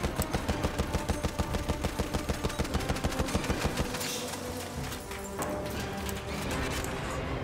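Horse hooves clip-clop in a steady galloping rhythm in Battlefield 1, with a neigh partway through, then the hoofbeats stop and battlefield noise and distant gunfire continue.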